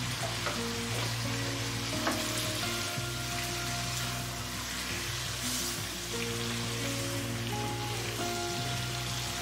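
Shrimp and broccoli sizzle in a pan of garlic butter sauce, a steady close crackling fry with a low hum beneath and occasional stirring clatter.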